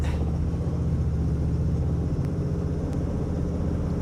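A brand-new 1920s car's engine idling as it warms up, a steady low rhythmic rumble and throb, close and continuous with faint wind buffeting.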